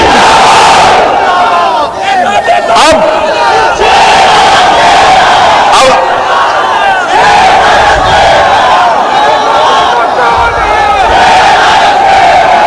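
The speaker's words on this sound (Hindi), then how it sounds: "अगर सच कहा तो नारा लगा हमारे साथ, नारे तकबीर, नारे तकबीर, मजलिस इत्तेहादुल मुस्लिमीन।" Crowd at a political rally shouting the slogan Nara-e-Takbir in unison, a loud, dense mass of voices in repeated surging bursts that fill the whole stretch.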